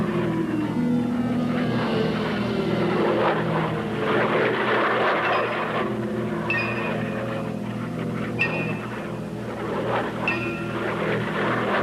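A military jet aircraft roars steadily through a bomb run, the dense engine noise loud and continuous with a low drone throughout.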